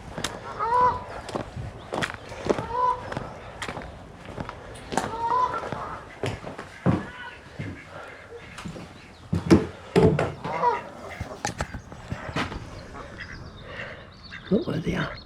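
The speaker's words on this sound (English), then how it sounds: "Geese more than anything, ducks." Ducks quacking and geese honking in a noisy flock at Hollingworth Lake, repeated calls overlapping across the whole stretch, with people talking now and then.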